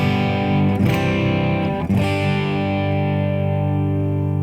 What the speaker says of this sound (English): Now let's put my distortion pedal.